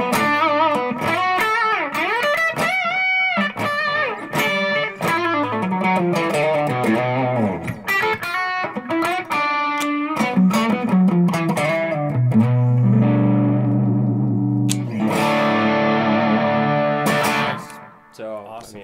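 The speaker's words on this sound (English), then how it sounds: "when you add a little bit of overdrive" A PRS Wood Library Custom 22 semi-hollow electric guitar is played through overdrive. It delivers a loud, continuous run of distorted chords and single-note lines that ring out alone, then fades away at the end.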